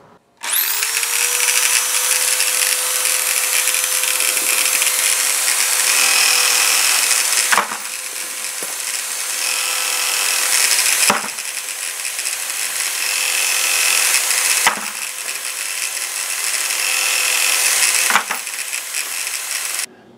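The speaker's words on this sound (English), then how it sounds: "Next, I'm going to trim my cases using my 223 tri-way cutter." A power trimmer spins as 223 brass cases are cut with a tri-way cutter, a steady loud whine broken every few seconds by brief pauses as each case is swapped, with no talking.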